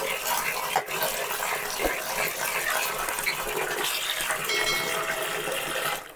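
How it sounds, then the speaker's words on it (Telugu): Water gushes over bitter gourd pieces being rinsed in the kitchen, a continuous, loud splashing wash heard up close without any talking. "ఇప్పుడు మంచినీళ్ళు పోసి కడుక్కోవాలి."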